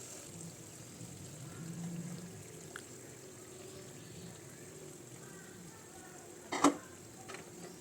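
Eggs that were fried earlier go back into a hot pan for an egg dish, giving a soft, low sizzle with stirring. A single sharp clatter comes near the end.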